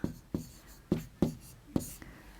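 Chalk or pen writing on a board during a primary-school maths lesson on dates and weekdays, with five or six sharp strokes and taps in an irregular rhythm, close and fairly clear.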